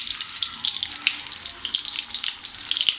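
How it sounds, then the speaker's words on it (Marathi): A chicken cutlet, Parsi style, shallow frying in a pan gives a steady, busy sizzle with crackling pops throughout, moderately close and with no one talking. "आता आपण दुसरी बाजूसुद्धा अशीच खरपूस भाजून घेऊया."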